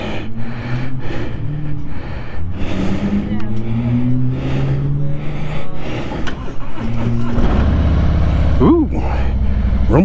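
A Harley motorcycle engine rumbles loud and close with shifting throttle tones while someone talks over it.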